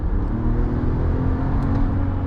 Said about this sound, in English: You hear those turbos spool up very aggressively as well.